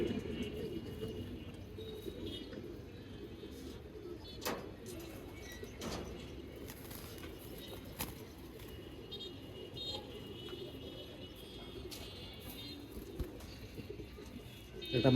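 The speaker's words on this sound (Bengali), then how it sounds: "এটা হচ্ছে আমাদের 53 লাইনের কবুতর, নর কবুতর।" A male pigeon of a 53-line breed coos softly in a low, repeated rhythm, with occasional sharp clicks and faint background noise from a pigeon tournament gathering; the sound stays quiet and close throughout.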